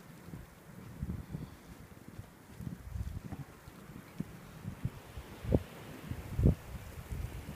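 Heavy wind roars during a snow blizzard whiteout with snow over 20 inches deep, a continuous low buffeting rumble across the microphone, broken by two sharp gust thumps near the end.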